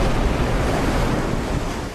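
Tsunami waves roar as a steady, dense wash of surf and rushing water, loud and unbroken, with a wind-like hiss across the whole span.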